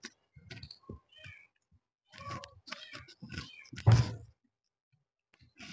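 Trapped kittens in an old abandoned house give several short, close meows in bursts separated by silence, one louder cry near the middle.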